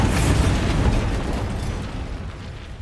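A Bombarda spell explodes in the video game Hogwarts Legacy: one loud, close, broadband blast that rumbles and slowly fades over a few seconds.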